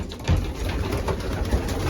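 Racing pigeon hens in their loft give low, soft coos over a steady, rough background murmur, with no talking.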